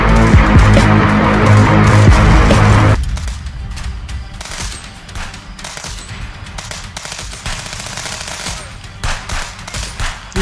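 Sustained sub machine gun fire in the video game Contraband Police, a dense loud stream of rapid shots behind music that cuts out, then continuing bursts of gunfire alone.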